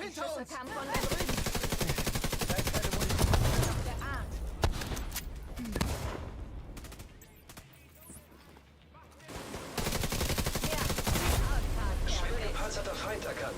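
Heavy automatic gunfire rattles in The Division 2, long sustained bursts with a brief lull in the middle before firing resumes, while German-speaking voices talk over it.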